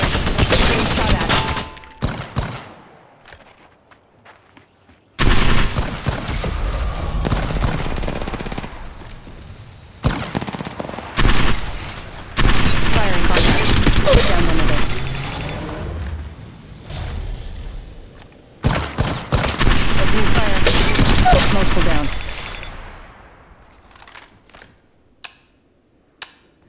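Repeated bursts of automatic gunfire in Apex Legends Mobile, loud and close, coming in several long volleys separated by brief silences.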